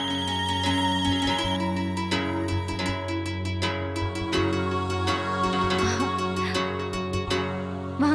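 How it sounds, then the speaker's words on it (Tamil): A mobile phone ringtone plays a repeating bright melodic tune for several seconds, loud and steady, with no voices over it. "ஒரே ஒரு வாட்டி என் போனை அட்டெண்ட் பண்ணு ப்ளீஸ்."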